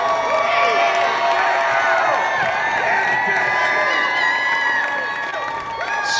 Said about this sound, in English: Spirited crowd here, though small in numbers.